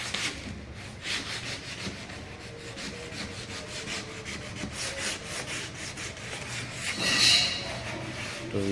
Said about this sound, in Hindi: तो 220 नंबर का रेगमाल लग रहा है, देखिए